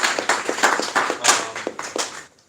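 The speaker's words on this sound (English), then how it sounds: "Let's give Steve a round of applause" An audience at a game mechanics meetup gives a round of applause, sparse and uneven, with a handful of distinct close claps in an irregular rhythm that thin out and stop.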